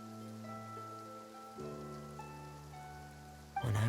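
Rain falling in the Fontaine region of the video game Genshin Impact, a soft continuous patter under sustained musical tones, with a brief louder burst at the end.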